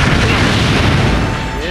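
A booming explosion in a Naruto Shippuden fighting video game bursts out loud and dense, a sustained blast lasting nearly two seconds before easing slightly.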